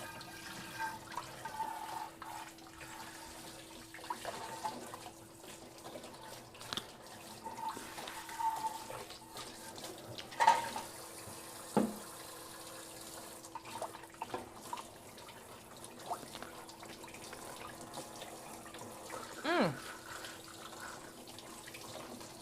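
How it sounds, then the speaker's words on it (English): Tap water runs over a cucumber being rinsed at a kitchen sink, a faint steady stream broken by splashes, drips and a few handling knocks, fairly quiet throughout. "Let me rinse this cucumber so I can eat it."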